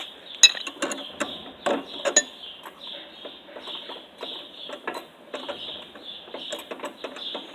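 Metal wrench ratcheting on an adjustment bolt of a zero turn mower drivetrain, a run of irregular clicks and scraping metallic taps, close and moderately loud, with no talking.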